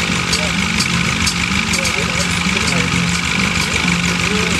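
Large RC 8KCAB Super Decathlon model plane at a model flying meet, its engine running in a steady, loud drone for the whole stretch, with voices faintly underneath.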